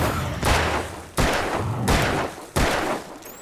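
Four heavy pistol shots in the Alan Wake video game, each a loud booming blast with a long decaying tail, fired at a slow, uneven pace about a second apart.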